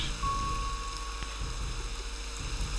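Rain falls steadily in the fantasy video game Wolfenhain, a soft, even patter with no one speaking, joined by a thin sustained tone and a brief click partway through.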